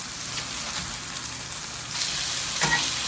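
Chicken sizzling and frying steadily in a cast iron pan, a dense close crackle that swells louder partway through as the pieces are flipped, with no talking.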